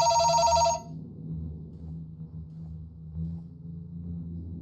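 A telephone ringing in the horror video game BrokenLore: Unfollow, a bright electronic ring that stops abruptly after under a second, leaving a low droning rumble and hum.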